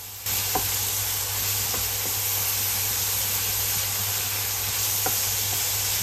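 Ground meat with dark soy sauce sizzling in a pan while being stirred, a steady broadband hiss with a few faint scraping clicks of the utensil, close and continuous, no talk.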